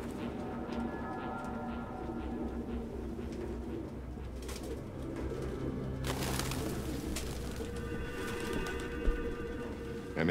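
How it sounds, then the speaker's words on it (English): A flock of pigeons coos steadily in the video game Detroit: Become Human, a dense low murmur of many birds under ambient noise, with occasional wing flutters and a brief knock, and no speech. "No human could live with all these fucking pigeons."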